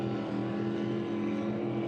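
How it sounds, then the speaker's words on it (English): SuperStock racing powerboats running identical Mercury 525 engines at a regatta race, producing a steady, loud, droning engine roar that holds constant throughout with no voices. "Identical engines in both of these boats, Mercury 525s"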